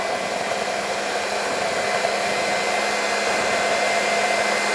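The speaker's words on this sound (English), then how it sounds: "So I've got the mixer behind me. So let me mix this" An electric hand mixer runs at a steady, loud whir throughout, blending a dough made for fries, with no voices and no change in speed.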